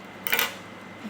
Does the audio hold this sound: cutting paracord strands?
yes